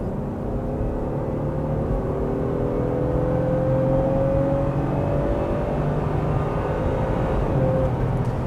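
Honda Passport TrailSport 2026 with its J-series engine accelerating, a smooth rising whir of engine and road noise that swells steadily over several seconds.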